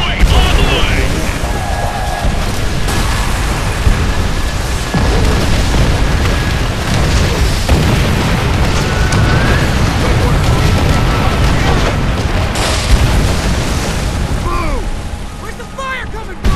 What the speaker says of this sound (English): That rocket strike should have softened him up!